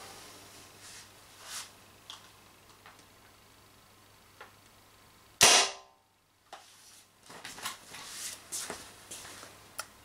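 A Tippmann Stormer Elite paintball marker fires a single sharp, loud shot that stands out clearly against a quiet background, followed by a brief silence and then faint ticking and rustling handling noises.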